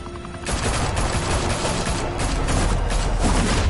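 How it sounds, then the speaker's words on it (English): Rapid continuous gunfire in a Batman video game, a loud dense fusillade of shots sustained throughout, close and without pauses. "Open fire!"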